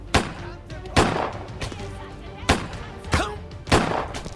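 Several sharp gunshot bursts in the game Autobahn Police Simulator, about five spread unevenly over a few seconds, loud and close, with some rumbling explosion thuds between.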